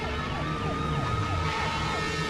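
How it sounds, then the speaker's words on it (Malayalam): A siren wails continuously with sweeping, rising and falling tones, loud and steady against a dense background, with no voices over it. "പിന്നെ എങ്ങനെയാണോ ഈ സൈറൺ അടിക്കുന്നത്?"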